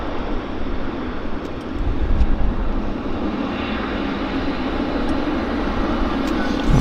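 An airliner rolls out after landing at Vancouver International Airport with its flaps fully extended, a loud steady broadband roar of engines and rushing air that holds fairly constant throughout.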